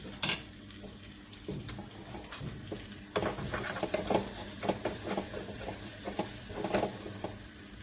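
Whole masoor dal being stirred after red chili is added, giving soft, irregular scraping and stirring strokes over a faint simmering sizzle, close and quiet, with no talking.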